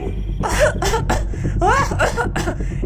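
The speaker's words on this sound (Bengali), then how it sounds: "ওপর থেকে শাকচুন্নির কাশির আওয়াজ ভেসে এলো" Harsh, repeated coughing bursts, several in quick succession with rasping throat sounds, close and fairly loud.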